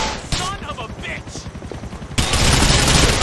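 Gunfire in Grand Theft Auto 4, a fast burst of sharp, loud shots in rapid succession, then a dense continuous blast of noise in the final second, with a voice talking over the game sounds.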